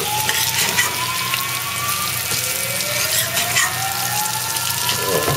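Potato latkes sizzle and fry steadily in a pan as they are flipped, a continuous close crackle with a bright hiss and faint scraping.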